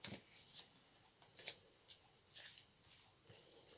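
Tarot cards shuffled for a nine-card reading, heard as faint, soft riffling bursts at irregular intervals in a quiet room, with no talking.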